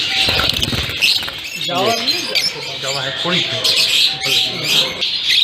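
Lovebirds in a large breeding setup squawk and chirp loudly and continuously, with shrill overlapping calls and occasional wing flutters, while someone talks over them.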